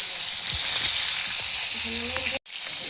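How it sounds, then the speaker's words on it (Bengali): Fish frying in a pan, a close, steady sizzle with light stirring scrapes over about three seconds, broken by a brief dropout near the end. "আমার মাছ ভাজা হয়ে গেছে, এখন আমি নামাই নিচ্ছি"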